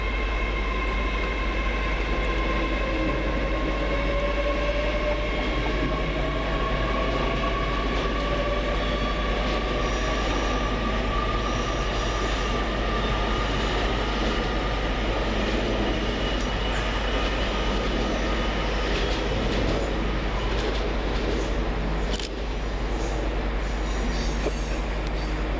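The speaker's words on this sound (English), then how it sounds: "Next out over on the far side is 802 110, with the 1301 Great Western Railway service from London Paddington to Exeter" A Great Western Railway class 802 train pulling out of Reading station, a loud continuous rumble and whine of the departing unit held close throughout, with rail noise and a brief sharp clank near the end.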